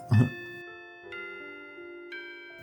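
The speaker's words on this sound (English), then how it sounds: "The bell. Taco Bell. That was the signal that lunch was over." A school bell marking the end of lunch rings out in clear, sustained chime tones, struck three times with a bright first hit and two softer repeats, ringing alone without talk.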